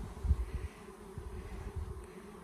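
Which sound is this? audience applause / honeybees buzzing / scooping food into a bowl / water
honeybees buzzing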